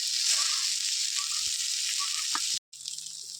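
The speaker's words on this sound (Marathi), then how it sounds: "कमी तेलात मासे भाजूचे" Karli fish frying in a little oil in a Vengurla village kitchen, a steady loud sizzle throughout that cuts out briefly near the end and then returns more quietly.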